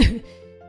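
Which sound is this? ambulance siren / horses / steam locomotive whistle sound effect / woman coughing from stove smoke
woman coughing from stove smoke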